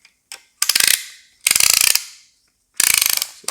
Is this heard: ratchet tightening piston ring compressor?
yes